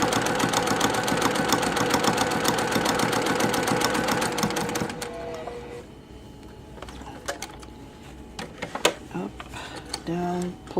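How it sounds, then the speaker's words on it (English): Sewing machine stitching rapidly in a steady, even rhythm for about five seconds, then stopping, followed by scattered quieter clicks and handling noises. "And I'm going to stitch all the way through."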